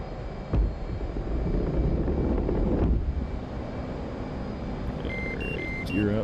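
An F/A-18C jet engine in DCS World holds a steady, close, broadband roar for the whole stretch, dipping briefly partway through, with a few faint electronic tones near the end.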